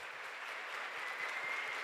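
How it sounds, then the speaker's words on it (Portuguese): A church congregation applauds together, a steady, soft wash of clapping held at an even level throughout without any talk over it. "Vamos dar uma salva de palmas para elas duas"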